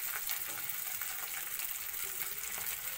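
Spiced mixture frying in hot oil in a home kitchen, a steady bright sizzle and crackle that runs evenly throughout with no talk.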